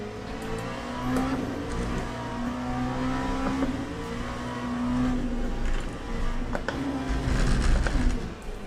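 Steady engine drone from an LMP prototype race car in Le Mans Ultimate, a sustained high-revving note with rising and falling pitch sweeps as it shifts through gears, loud and continuous throughout.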